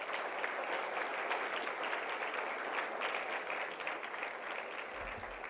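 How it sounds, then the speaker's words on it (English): Audience at an entrepreneurship summit gives a steady, even round of applause, dense clapping that holds at moderate distance for over five seconds without any talk. "Please applaud them."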